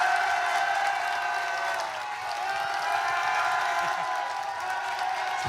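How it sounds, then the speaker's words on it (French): An audience at a Paris Games Week stage event for Ghost of Yotei applauds and cheers in a dense, sustained wash of clapping and whoops, loud and continuous throughout. "Et on va faire de l'applaudissement."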